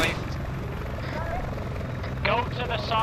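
Helicopter in the Arma 3 video game, a steady rotor drone filling the low end throughout, with players talking over it and brief higher chirps near the end.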